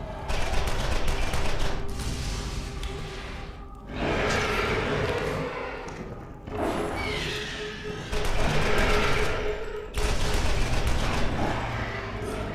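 Rapid pistol gunfire in the video game Borderlands, loud and close, coming in long dense bursts of overlapping shots split by short gaps, with chaotic combat noise filling the background.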